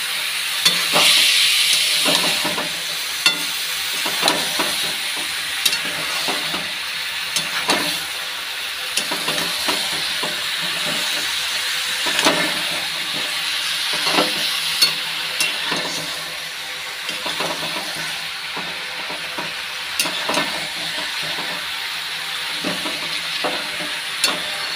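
Spices fry in a pan with a continuous close sizzle, broken by regular scraping strokes as they are stirred, with no talk.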